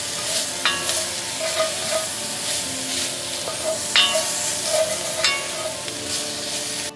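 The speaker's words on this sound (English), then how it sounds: "While the vegetables cook away," Chopped vegetables frying in a pan, a continuous sizzle with repeated scraping stir strokes and clinks of a utensil, close and moderately loud with no talking.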